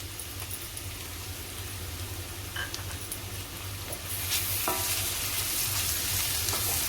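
Chopped onion with ginger garlic paste sautés in a pan, giving a soft, steady sizzle with light stirring scrapes. It turns somewhat louder and brighter partway through, and no one speaks.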